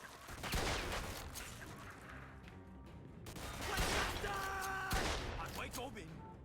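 Shotgun blasts in the video game Mafia II, several loud broadband bursts spaced irregularly over game music and effects, with a voice talking over the action.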